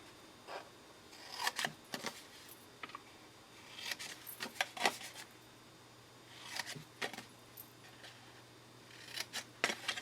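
Designer Series paper being trimmed with a paper trimmer, short scraping and slicing bursts in a few separate clusters, close but fairly quiet against a soft background hum, no talking.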